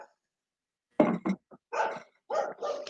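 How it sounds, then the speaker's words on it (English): A neighbor's dog barks in a quick series of five or six sharp, loud barks close by, with short pauses between bursts. "No, it's a neighbor's dog, Lily."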